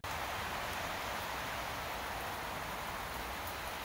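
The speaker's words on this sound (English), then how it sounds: "It's raining pretty good here." Heavy rain pours down steadily and loudly, a dense unbroken hiss of falling water with no voices, during a thunderstorm with lightning.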